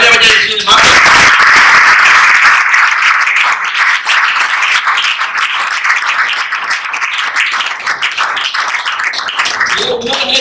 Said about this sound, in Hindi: इनको तालियां बजाइए